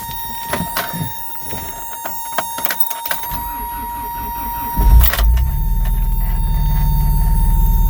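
A 33-year-old Toyota 4x4 pickup with a 22RE engine cranks over in the snow after a quiet stretch, then catches around five seconds into a cold start and settles into a loud, steady idle.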